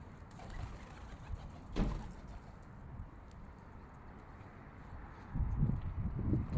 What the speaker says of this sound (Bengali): দেখেন এই মেল কবুতরটা কত বড়